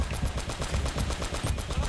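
Mounted turret firing in Uncharted: Drake's Fortune, a loud, continuous rapid-fire burst of heavy gunfire with a steady chattering rhythm lasting the whole moment.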